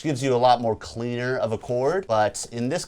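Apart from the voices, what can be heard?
No everyday noise stands out behind the speech.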